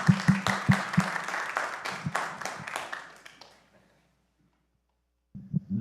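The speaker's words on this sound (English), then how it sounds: "So let's give him a big round of applause." An audience applauds a speaker at a lunch-and-learn event, a short burst of scattered clapping that fades out over a few seconds and leaves silence before faint sounds resume.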